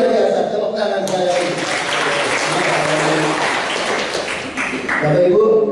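A hall full of parents at a school meeting breaks into applause, dense clapping rising and holding steady for several seconds, with a few voices and light laughter mixed in.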